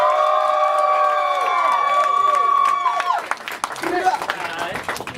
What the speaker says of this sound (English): Let's give a big round of applause for my man, your guy, Mr. Travis Thompson.